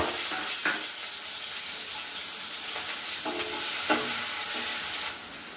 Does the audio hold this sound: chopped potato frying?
yes